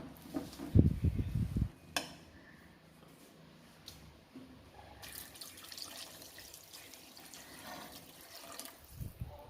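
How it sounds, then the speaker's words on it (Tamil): Water pours in a brief splashy burst into a potato masala, followed by soft stirring and faint scraping in a pot, fairly close and quiet. "நம்ம இப்போ தேவையான அளவுக்கு நல்லா தண்ணி விட்டு கலந்துக்கலாம்."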